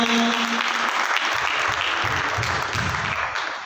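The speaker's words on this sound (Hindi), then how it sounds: "सभी ताली बजाएं, ताली बजाएं।" An audience at a Jain kalash sthapna ceremony honoring Aaryika Vidaksha Shri Mataji claps to encourage children. The brisk, continuous applause runs throughout, with a faint voice and a low hum underneath at the start.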